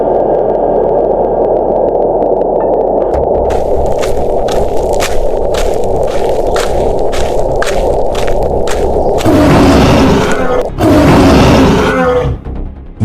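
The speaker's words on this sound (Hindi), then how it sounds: "ये तो बाघराज की दहाड़ है।" A tiger roaring in the jungle, loud deep roars over a constant background hiss, with a brief rhythmic pulsing sound before two heavy roaring bursts near the end.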